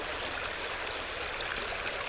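A creek flows as a steady, close rushing of water, constant and unbroken with no voices.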